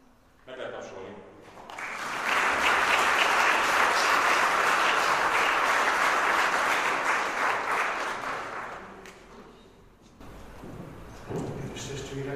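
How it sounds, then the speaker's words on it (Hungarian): A church congregation at a Catholic feast-day mass bursts into sustained applause, a dense roar of clapping that builds, holds for several seconds and fades, with spoken voices before and after. "Meg lehet tapsolni."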